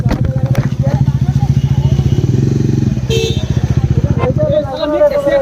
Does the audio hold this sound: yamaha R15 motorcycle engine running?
yes